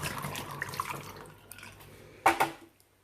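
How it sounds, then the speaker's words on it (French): Water is poured into a bottle to mix a homemade cleaning spray, a soft continuous trickle and gurgle close by that ends with a brief louder splash before stopping. "Alors je rajoute l'eau, tout d'abord, 350 ml."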